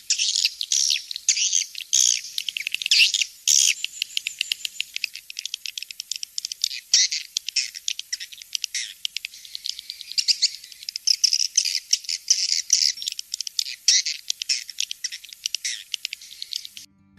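Dense, high-pitched chirping and twittering of swiftlets, continuous and rapid, fairly loud throughout with no other sounds.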